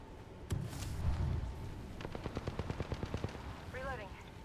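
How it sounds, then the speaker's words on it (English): Video game gunfire: a rapid burst of about a dozen evenly spaced shots follows a single loud report and low thumps, and a short electronic chirp comes at the end. "Contact with target. Firing."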